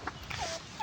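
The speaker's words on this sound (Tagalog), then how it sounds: "Ayun, pabo" Turkey on a farm in Taal, Batangas, giving quick gobbling calls, faint to moderate and fairly close, over low outdoor background noise.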